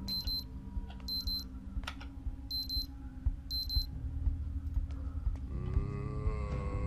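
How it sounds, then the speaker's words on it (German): A mobile phone alarm rings inside the survival game Project Zomboid, sounding in four repeated bursts of high electronic beeping over a low steady game ambience, before a different, fuller tone takes over near the end. "dass mein Handywecker geklingelt hat"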